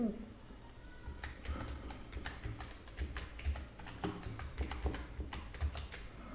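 Typing an address on a computer keyboard: quiet, irregular key taps in short bursts, close and faint, with a low background hum.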